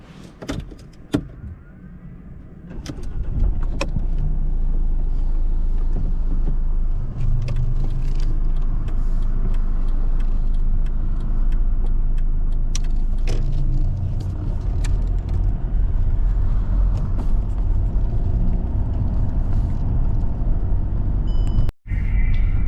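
A taxi in Kyiv pulls away and drives on, a steady loud engine and road rumble continuing from a few seconds in, with a brief thump near the end.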